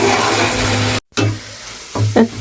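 Spatula stirring a vegetable bharta in a hot frying pan, a steady close sizzle broken by a brief silence, then a few scraping, clattering stirs.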